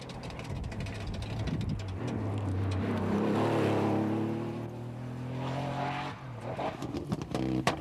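Porsche rally car on a stage of the 2000 Donegal International Rally, engine droning steadily with harmonic revs rising and falling as it passes, moderately loud with no voices.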